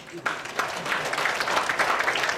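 Conference audience breaking into applause after a slight pause, the clapping swelling quickly into a steady, moderately loud patter of many hands that continues through to the end.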